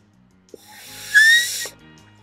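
An empty raisin box blown like a makeshift trumpet, producing a breathy, whistling buzz that swells for about a second and then cuts off, heard alone and fairly quiet.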